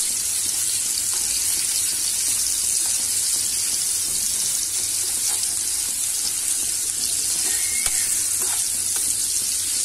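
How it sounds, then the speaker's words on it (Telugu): Paneer frying in hot oil in a kadai, a continuous loud sizzle with faint clinks of stirring and no talking. "ఈ పన్నీర్ని హీట్ అయింది కదా, పన్నీర్ వేసుకొని ఫ్రై చేసుకోవాలి"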